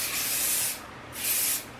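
Hairspray hisses onto hair in two close, steady bursts, each lasting around half a second with a short pause between them.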